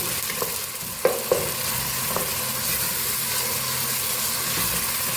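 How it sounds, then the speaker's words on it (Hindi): Steady frying sizzle of onions with ginger garlic paste for a mutton kofta curry, with occasional clinks and scrapes of stirring in a pan, close and continuous, no talking. "प्याज़ों के साथ ही हम लहसुन अदरक के पेस्ट को फ्राई कर लेंगे।"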